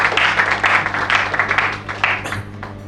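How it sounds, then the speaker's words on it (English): Audience applause at an agricultural talk on cowpea farming, a dense, sustained round of clapping heard close and fairly loud, tapering slightly toward the end with no one speaking. "A round of applause for him as he speaks."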